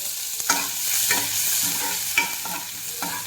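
Small shallots sauté in hot oil with mustard seeds in a pan for sambar, with a steady sizzle broken by close, rhythmic scrapes of a stirring spoon, and no talk.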